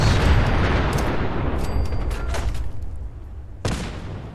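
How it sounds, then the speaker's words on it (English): Several grenades blow up vehicles in Fallout 4, a rapid cluster of booms and blasts at the start that decays into rumble, then one more sharp explosion near the end. "what happens if you throw multiple grenades at exploding vehicles?"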